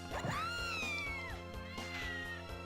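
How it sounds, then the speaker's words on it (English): Cat meowing in Castlevania: Order of Ecclesia, two drawn-out rising and falling meows, clear and close over a steady game music backdrop. "By the way, that noise you hear is a cat."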